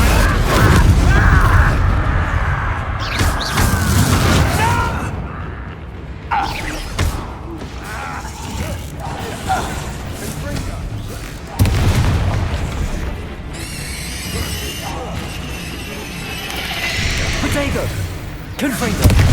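Confringo fire spell blasts in Hogwarts Legacy combat, heavy booming explosions going off repeatedly with crackling debris and bursts, mixed with battle effects and a voice casting spells.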